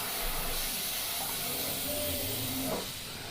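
Steady airy hiss of an airbrush spraying paint through a Scotch-Brite pad, continuous for a few seconds at close range, with faint low rumble underneath.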